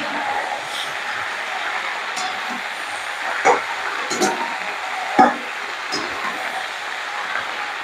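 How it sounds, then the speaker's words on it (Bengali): Ginger paste being stirred in a frying pan for a neem shukto, a steady low sizzle with a few soft scraping knocks of the spoon against the pan. "এবার আদা বাটাটা দিয়ে আমি ভালো করে নাড়বো।"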